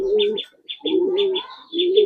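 Giribaz pigeons coo in close, repeated phrases, soft low burbling notes broken by brief pauses, with higher chirpy overtones riding on each call.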